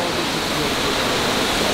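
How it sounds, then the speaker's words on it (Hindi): Rushing waterfall at a scenic viewpoint in Turkey, a steady, loud, dense roar of falling water filling the whole short stretch with no breaks. "यार ये waterfall ऐसी है ना कि बस आप यहाँ खड़े रहे और इस पानी को देखते रहे, इस शोर को सुनते रहे"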